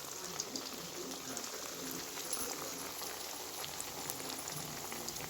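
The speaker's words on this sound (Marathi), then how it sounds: "तर हे तळून घेऊया आपण चांगले." Sabudana vada fry in hot oil, a faint, continuous fizzing sizzle with scattered tiny pops, steady and close with no talking.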